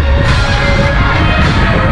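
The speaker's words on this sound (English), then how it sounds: "I apologize for the wind, because it's probably gonna be pretty windy" Wind buffeting a microphone on the Galveston Pleasure Pier amusement pier, a loud, continuous low rumble and roar with faint background crowd ambience and no talking.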